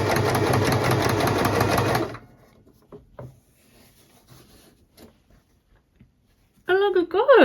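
A sewing machine stitches a double hem on a handmade bag, a loud rapid mechanical whirr for about two seconds, followed by quiet fabric handling clicks and a voice speaking at the end.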